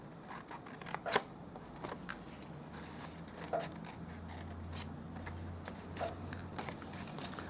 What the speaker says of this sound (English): We're going to cut this flap off.